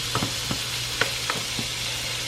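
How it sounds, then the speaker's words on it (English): A soft, steady sizzle of food frying in a pan, with a few light taps and scrapes scattered over the hiss. "get it frying up a little"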